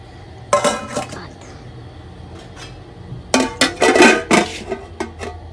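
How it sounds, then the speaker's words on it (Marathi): A lid fitted onto a food container packed for a food stall, two bursts of clattering plastic and metal clicks and knocks, a short one near the start and a longer busier one later, with quieter gaps between. "चला आता ह्याला झाकण लावून घेऊया आपण"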